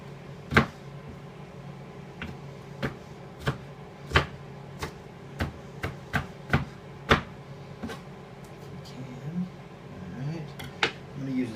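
A knife chops spinach on a cutting board in a kitchen, a series of sharp, irregular taps at close range with quiet room noise between.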